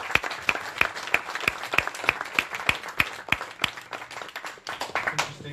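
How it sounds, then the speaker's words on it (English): Sparse applause from a small audience at an event in Brussels, with distinct individual claps in a steady rhythm, fairly close and thin, continuing for several seconds without talk. "I think we should give a warm applause to..."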